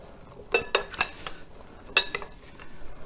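A utensil stirs olive oil in a pan, making a few sharp clinks and scrapes in two short bursts with quiet gaps between.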